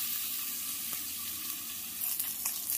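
Spices and ginger-garlic paste sizzle in hot oil in a kadai, a steady bright frying hiss with a few faint stirring clinks, heard alone at moderate level.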